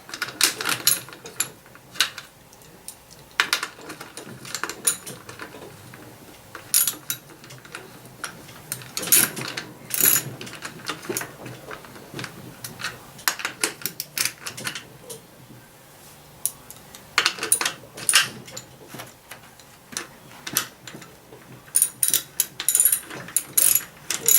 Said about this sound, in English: You'll go ahead and you'll lock the lug nuts in the back down.